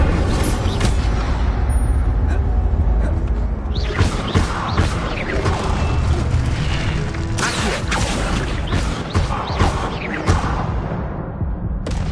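Incendio fire spell cast in the Hogwarts Legacy video game, a dense, loud roar of flame bursts and impacts running continuously under layered game effects, with no talk.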